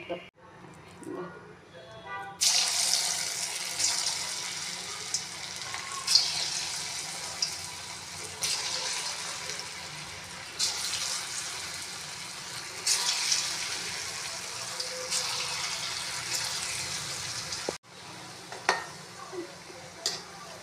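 Moong dal vadas fry in hot oil with a continuous, moderately loud sizzle that swells in bursts and then stops near the end, while a voice talks at times.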